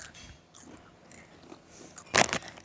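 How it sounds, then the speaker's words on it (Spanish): Potato chips being bitten and chewed up close, with soft crunching through most of the clip and one loud, sharp crunch near the end. "Si escucháis crujidos, estamos comiendo patata."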